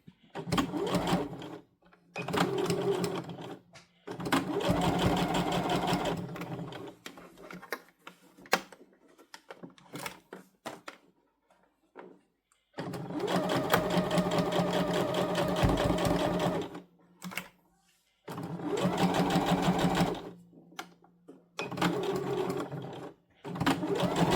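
Sewing machine stitching a fabric scrunchie at a 3.5 stitch length, with backstitches at start and end: several loud bursts of fast, steady mechanical whirring separated by short pauses, close and alone without talk.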